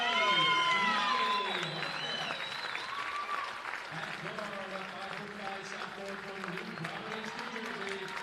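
Applause and crowd noise from a packed women's basketball arena as the Royals are introduced, loudest at first and then easing into a steady murmur, with a voice and a few shrill tones rising over it.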